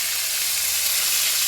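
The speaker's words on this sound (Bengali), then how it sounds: "মাংসটা দিয়ে একটু কষাতে থাকি" Mutton hitting hot oil in a kadai with tomato, a loud, steady close-up sizzle that holds without a break and has no voices over it.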